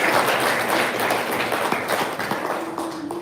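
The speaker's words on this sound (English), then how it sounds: "let's give Tommy one more round of applause" An audience at a NAIA SIDA divisional day gathering gives a round of applause, a dense wash of clapping from a roomful of people that thins slightly toward the end.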